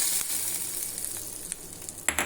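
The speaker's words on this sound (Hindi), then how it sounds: "डाल देंगे इसमें हम कड़ी पत्ता और इसको इस तरह से कर लेंगे फ्राई" Steady hissing sizzle of curry leaves frying in hot oil, with a few sharper crackles and pops near the end.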